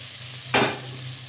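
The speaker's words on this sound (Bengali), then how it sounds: "হাতাটা একটু তেল দিয়ে ভাজতে হবে।" Spices hitting hot oil in a wok while cooking a pabda fish curry with potato and aubergine, a sudden loud sizzle burst that fades quickly over a low steady hum.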